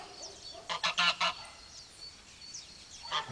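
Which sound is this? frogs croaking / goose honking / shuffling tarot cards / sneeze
goose honking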